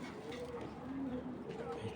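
A racing pigeon gives low, soft rolling coos, close but quiet, repeating in short phrases over a faint room hum.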